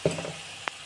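Chicken masala sautéing with salt and turmeric in hot oil in a pan, a quick scrape of stirring at the start, then a low sizzle and a short clink.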